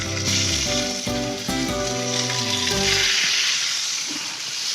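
Salted food sizzles loudly in hot oil in a pan, a continuous close hiss and crackle, with background music over the first few seconds before the sizzle continues alone.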